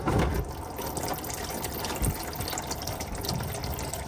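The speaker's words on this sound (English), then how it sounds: "the pan should slowly start draining into our can here" Transmission fluid pours from a loosened pan on a 2006-10 Dodge Charger's NAG1 Mercedes automatic into a catch can, a steady close liquid splatter and trickle with a few heavier gushes and no talking.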